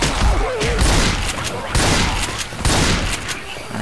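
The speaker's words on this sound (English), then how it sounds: "You're shooting me again." Rapid gunfire from teammates hitting the player in the Left 4 Dead 2 video game, a dense, loud fusillade of overlapping shots that swells in bursts for the whole stretch, with other game noise mixed in.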